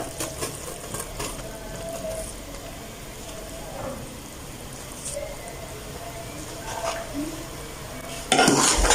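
Rice being stirred in a pot for sweet mutanjan rice, soft scraping and light clinks of a spoon against the pot over a low sizzle, close and quiet, ending in a louder rustle.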